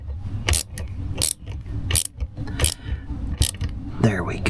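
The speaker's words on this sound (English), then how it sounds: "I want to also make sure these screws are tight" Screws being tightened on a Ryobi S430 4-cycle string trimmer, giving repeated short ratcheting clicks in bursts about every 0.7 seconds, close and fairly loud over low background rumble.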